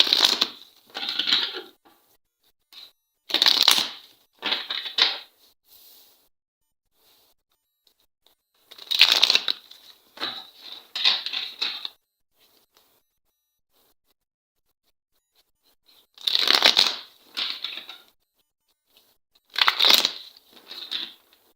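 Tarot cards handled and shuffled close up, short bursts of riffling and scraping card noise separated by stretches of silence, heard alone.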